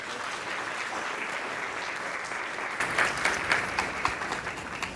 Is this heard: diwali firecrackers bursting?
no